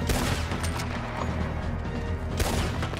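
Dense, continuous video game gunfire during a team firefight, rapid shots layered into a steady crackling barrage with a louder burst near the end, no voices over it.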